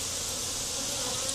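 Honeybees flying around an open hive after a split, a steady broadband insect buzz filling the short stretch at even loudness with no voices.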